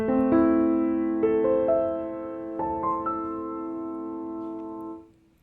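A piano plays a short phrase with the left hand: a handful of single notes struck one after another, each left to ring and overlap. It ends in a sustained decay that cuts off. It sounds close, with no talking.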